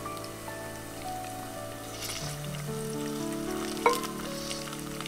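Spices, cinnamon and fresh mint being stirred into a chana dal chicken curry frying in a pan, a steady close sizzle with scraping and stirring and a brief clink of the spoon near the end.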